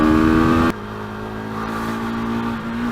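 A motorcycle engine held at wide-open throttle, loud and close, with a steady high drone that shifts pitch abruptly early on and then pulls on continuously without any talk.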